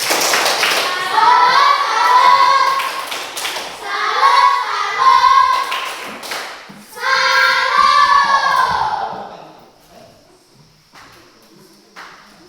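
A school class does the 'tepuk salut' clapping routine, with children's voices chanting in unison in three loud phrases and sharp claps punctuating them, then a quieter tail with a few scattered claps.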